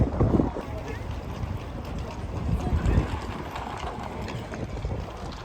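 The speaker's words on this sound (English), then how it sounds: "It's quite windy, isn't it?" Strong outdoor wind buffets the microphone with a low, rumbling roar in uneven gusts, and a person talks underneath.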